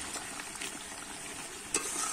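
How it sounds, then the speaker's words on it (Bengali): Chicken kosha dusted with garam masala powder sizzles softly in a pan while it is stirred with quiet scraping. A single sharp clink near the end stands out, and there is no talking. "এবারে কিন্তু একটু আমার নেড়ে নেব"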